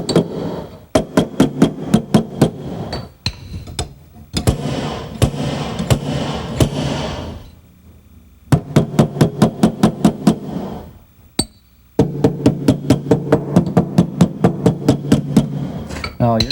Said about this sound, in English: you're just hammering some of the excess back in a little bit then?